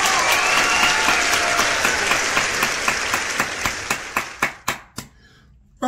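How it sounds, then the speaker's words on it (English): Loud, dense applause gradually thins out into a handful of separate, sharp hand claps that slow and then stop, leaving near silence. "First official clap of the album."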